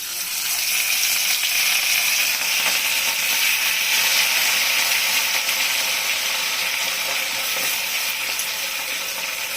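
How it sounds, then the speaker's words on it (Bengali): Pieces of katla fish frying in hot oil, two or three at a time, give a steady, loud broadband sizzle with fine crackles that hold evenly throughout, close up and with no talk. "একবারে সব মাছগুলো ভাজবো না দু তিন টুকরা করেই ভাজবো"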